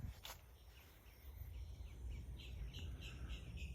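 Birds chirp and tweet in a food forest, a series of short bright calls repeating in quick bursts over a low outdoor rumble, moderately distant and faint, with no talk.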